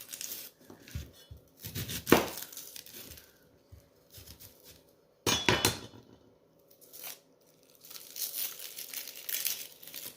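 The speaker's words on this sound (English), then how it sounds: "I'm just going to peel my onion" Dry papery onion skin being peeled by hand in a home kitchen while making shrimp cocktail, heard as close, intermittent crinkles and tearing bursts with quiet gaps between them and no talking.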